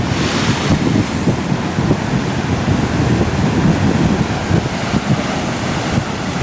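Ocean surf on the shore at Balekambang beach in Malang, East Java: a continuous wash of breaking waves with heavy wind buffeting the microphone, steady and close with no voices.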